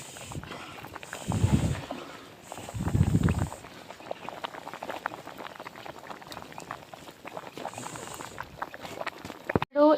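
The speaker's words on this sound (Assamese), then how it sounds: "কি ধুনীয়াকৈ উতলিছে।" Rice boiling in a pot bubbles and gurgles steadily at close range, with a few louder surges of rolling boil early on and a short clatter at the end.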